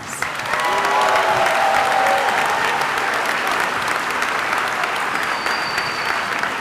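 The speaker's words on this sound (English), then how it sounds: "Can we give them a round of applause?" A commencement crowd breaks into a full round of applause, dense clapping rising quickly and holding steady for several seconds, with a faint whistle or two over it.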